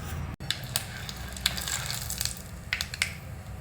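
Mustard seeds spluttering in hot sesame oil in a pan for South Indian wild lemon pickle, with a steady close sizzle broken by sharp scattered pops and crackles and no voices.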